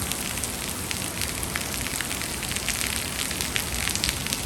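A heavy rain downpour pours down steadily outdoors, a dense, even hiss of drops striking surfaces, loud and continuous with no talk.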